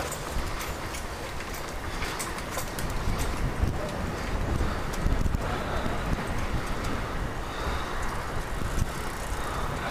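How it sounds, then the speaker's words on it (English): Strong wind buffeting a bike-mounted action camera fitted with a fur windscreen while cycling across a pedestrian bridge in downtown Kobe, Japan, a steady low rumbling roar with passing traffic noise throughout. "It's pretty windy."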